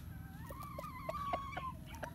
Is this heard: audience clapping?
no